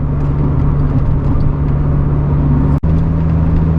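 A 1993 Honda Del Sol Si with a four-speed cruises at highway speed, a loud, steady drone of engine, tyres and wind from inside the cabin, with a brief dropout near the end.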